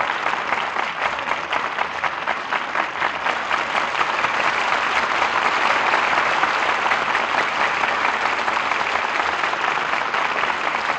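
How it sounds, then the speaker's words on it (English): Studio audience applause for the stars of a classic radio drama, a dense, uniform burst of many hands clapping that holds steady for several seconds. "Well-deserved applause for our stars who have made the suspects so exciting an experience"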